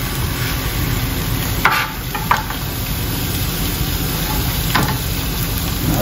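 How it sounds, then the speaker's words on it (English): Sweet peppers sizzle as they heat in a pan alongside sautéed oyster mushrooms, giving a steady, close, loud hiss with a few brief stirring scrapes and no voices. "So you can hear the peppers starting to heat up."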